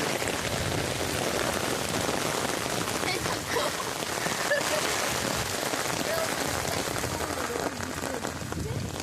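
Sudden afternoon rain pours down steadily on surfaces outdoors, a dense, loud, continuous hiss of drops with faint background voices.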